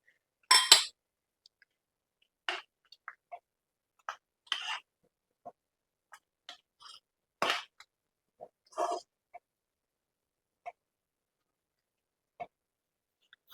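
A spoon stirs a sweet cardamom-spiced mixture in a pot, producing sparse, quiet metallic clinks and scrapes with long silent gaps between them.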